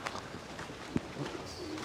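Racing pigeons coo softly in a young-bird racing loft on Long Island, with a low continuous murmur of calls and a brief louder flutter midway, no talk.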